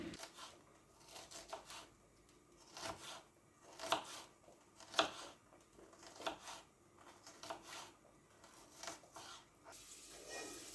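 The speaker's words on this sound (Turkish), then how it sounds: "Soğan doğrayacağım." Quiet, uneven knife strokes on a wooden board, scraping and thudding at an irregular pace, as an onion is chopped close by.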